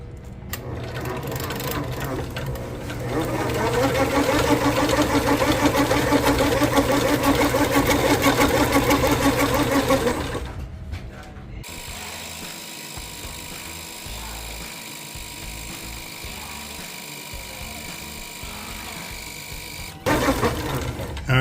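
Fishing line is spooled onto an old-school Penn reel for a shark tournament: a loud, steady mechanical whirring hum for about ten seconds, then a lower, quieter running drone, rising again briefly at the end.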